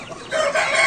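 An Aseel rooster crows in a short, loud, close burst that rises after a quieter opening, with no talking.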